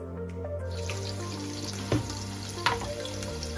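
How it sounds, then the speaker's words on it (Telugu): Onions dropped into hot oil for mint chutney, a close steady sizzle with a few sharp spatters and clinks of a spoon or pan, no talking over it. "నూనె కాగిన వెంట ఉల్లిగడ్డలు వేసుకోవాలి."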